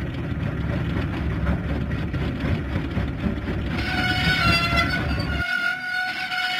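A cartoon diesel train engine rumbles steadily along the track, loud and continuous, with a brighter rail or horn tone rising near the end as the low rumble drops away.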